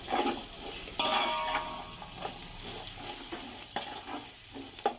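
Coriander and cumin powders mixed into hot oil in a pan, with a spoon scraping steadily over a continuous close sizzle and a few sharper knocks toward the end.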